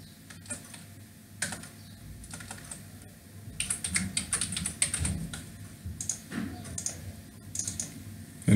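Code is typed on a computer keyboard in a close, quiet room, with irregular bursts of crisp key clicks and short pauses between runs of keystrokes.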